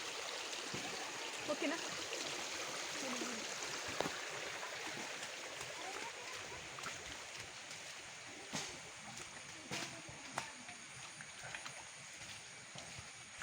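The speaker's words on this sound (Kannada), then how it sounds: "ಜೊತೆಗೆ ಈ ಥರ ಹಳ್ಳಗಳಲ್ಲೆಲ್ಲ ನೀರು ತುಂಬಿಕೊಂಡುತ್ತೆ." Rainwater runs through a stream channel in coastal forest country, a steady broadband wash of flowing water with scattered small splashes and clicks, and a voice briefly speaks over it.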